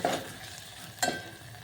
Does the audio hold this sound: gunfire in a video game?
no